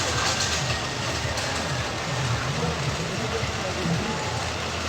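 A ride train at a park runs past nearby with a loud steady rumble and rolling rail noise, while people talk over it.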